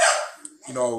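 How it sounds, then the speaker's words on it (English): A dog in the room lets out a single short bark, loud and close, followed by a brief low vocal sound. "Apologize about the dog."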